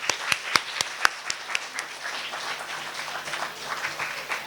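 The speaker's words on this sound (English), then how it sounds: "So big round of applause for you." Audience applause for participants at a speaking bee competition: several sharp, distinct claps open, then blend into a steady, fairly quiet wash of clapping from the gathered crowd.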